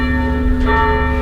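A church bell at First Congregational Church in North Attleboro, Massachusetts, rung by pulling a rope, sounds a sustained ringing tone with a soft swell partway through, fairly loud and heard alone.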